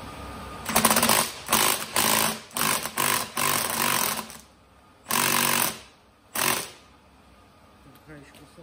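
Bursts of an impact wrench loosening the shock absorber nut on a Lexus RX 300, several short rattling hammering runs close by with brief pauses between them, then two final separate bursts.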